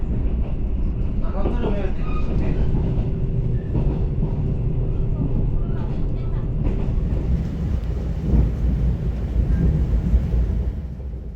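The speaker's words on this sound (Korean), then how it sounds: "17시 47분에 신기역을 출발해 동해역으로 가는 1681 무궁화호에 몸을 실습니다" A Korail Mugunghwa passenger train runs on rails through mountain valleys, with a steady loud rumble and rattle of the carriages heard from inside, continuous throughout.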